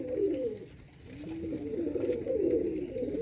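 Low, throaty pigeon coos roll on continuously, several birds overlapping in soft repeated phrases, fairly close, with a faint background hiss.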